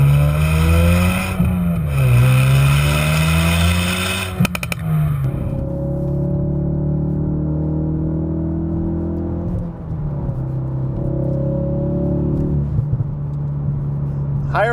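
A 2016-2018 Ford Focus RS with an MBRP cat-back exhaust revs up and settles into a deep, steady rumble, loud and close, with rising and falling engine pitch throughout.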